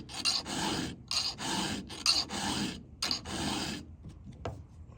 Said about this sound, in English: This is a touch-up filing.